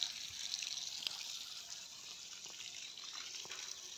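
Water gushes steadily from a burst, leaking pipe outdoors near a vegetable garden, a continuous hissing rush that stays fairly loud throughout with no talk over it.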